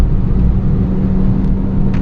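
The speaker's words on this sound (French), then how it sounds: "dès qu'on lui met un peu dans la gueule, le bruit du moteur commence un peu à se sortir" Citroën C2 VTS engine accelerating with a steady, loud rumbling drone and low road noise throughout, no voices over it.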